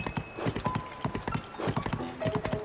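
Horse hooves clip-clop steadily along a road in the Zelda: Tears of the Kingdom video game, a brisk repeating trot with game music faintly underneath.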